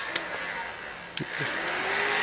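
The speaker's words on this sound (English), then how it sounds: "whoever is actually looking for a heat gun, this is the way to go" Heat gun running with a steady, loud blowing hiss, broken by a few sharp clicks, with no talking.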